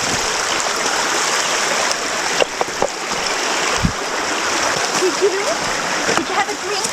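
A bush creek rushes steadily across a vehicle crossing in eucalypt forest, a continuous close broadband wash of flowing water with occasional splashes and faint voices nearby.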